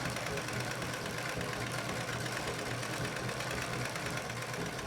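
A Pfaff 230 sewing machine free-motion quilting feathers on fabric for a tote bag runs in a fast, steady mechanical hum and rattle, close and continuous with no pauses.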